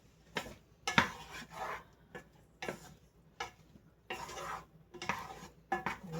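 Mushrooms sauté in a pan on medium heat as a utensil stirs them, scraping and clinking against the pan in uneven bursts over a faint sizzle, close and without talk.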